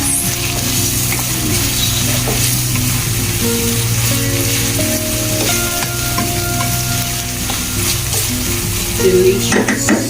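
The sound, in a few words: tomatoes frying in a pan, being stirred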